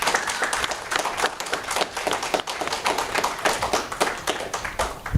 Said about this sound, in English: Please, let's clap for them for their time.